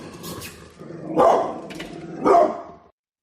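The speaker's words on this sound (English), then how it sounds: "That's our dog." A dog gives two loud, deep barks about a second apart, close by in a room, with quieter scuffling and muffled sounds before them and silence after.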